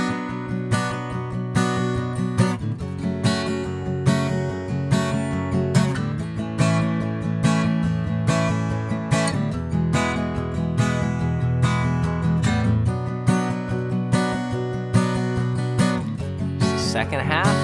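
Strummed acoustic guitar chords from the pre-chorus of a song, played in a steady four-count rhythm, close and moderately loud with no talking.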